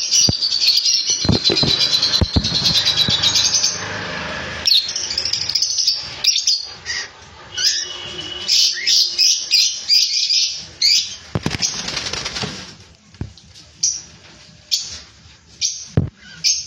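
Lovebirds, including white patchless red-eye birds, chirp and tweet at a bird sale, dense overlapping calls and wing flaps up close that thin out into scattered bursts toward the end.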